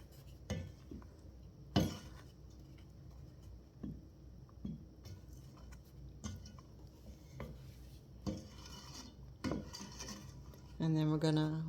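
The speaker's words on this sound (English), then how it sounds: "and then 1 teaspoon of vanilla. We're going to stir that up" Vanilla is stirred into carrot cake jam with chopped walnuts, making soft scraping and clinking of a utensil against the pot in irregular strokes, with louder knocks toward the end and no talk.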